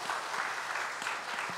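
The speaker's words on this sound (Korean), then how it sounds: "뒤로 돌아서 인사하고 박수 한번 하겠어요." Church congregation applauding after a baptism, a steady wash of many hands clapping together, fairly even and moderately loud with no talk over it.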